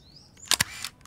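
Canon EOS 3000 film camera shutter firing at 1/350, a sharp double mechanical snap of mirror and shutter close to the microphone, followed by a short whirring wind, all in about half a second.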